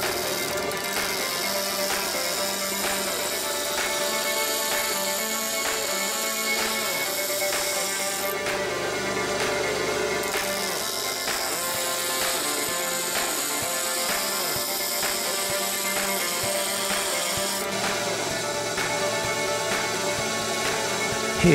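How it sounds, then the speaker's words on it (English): A broken wrench's head is cut off and its burrs ground away with a sander, a loud steady grinding-and-cutting noise running nearly unbroken for the whole stretch, with brief dips in intensity, no talk. "I'll cut off the head and use a sander to remove the burrs."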